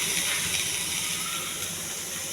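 Green chillies and curry leaves frying in oil with cinnamon, cloves and bay leaf for chicken curry, a steady close hiss and sputter with no talk.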